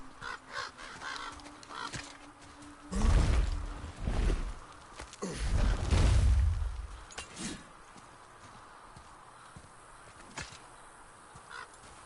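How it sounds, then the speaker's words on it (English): Birds in God of War give out loud honking, cawing calls in two strong bursts near the middle, with fainter scattered calls before and after. "The birds are so cool, man."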